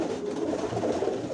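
Pigeons coo softly at their loft, a close and continuous murmur with no talk.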